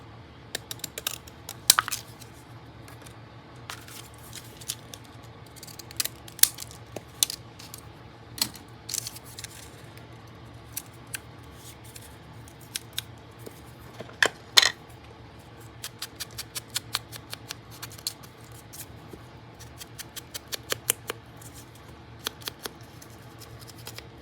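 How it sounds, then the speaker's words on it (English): Decal scissors snip through paper in a craft session, giving sparse, quiet clicks and cuts at irregular intervals over a low steady hum, close by with no voices. "I think I'll cut it with my decal scissors."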